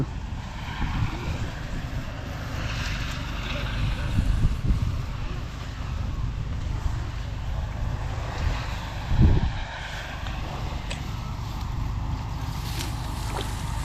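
Wind blowing over a rice field, a steady broadband rush with low buffeting gusts against the microphone, one stronger blast near the middle, with no talk.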